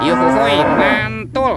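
A toy animal's recorded cow moo plays loudly and close up: one long, drawn-out low lowing call, then a short second burst after a brief gap.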